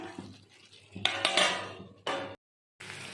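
A pot of chicken and potatoes being covered, with a few close metallic clanks and scrapes of lid and utensil in quick bursts, a short silent gap, then another clatter.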